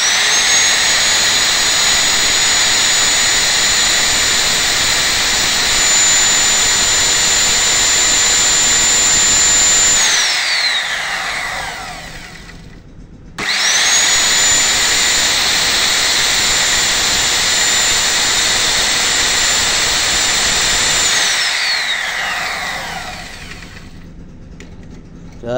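A Bosch GKS 140 electric circular saw, rated 1300 watts, runs twice at a loud, steady high whine for about ten seconds each time, then winds down after being switched off.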